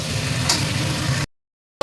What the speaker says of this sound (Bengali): এবার ভেজে রাখা মাংস আর আলু দিয়ে কষবে।